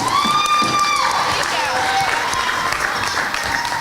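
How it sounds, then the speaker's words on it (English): An audience at an athletic alumni reunion applauds an honoree, sustained clapping with some cheering while a voice carries over it. "Let's give her another round of applause."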